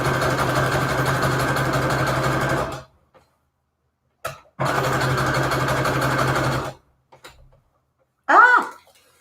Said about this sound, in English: So now we're going to sew this. It's going to look so cute. And we're on zigzag.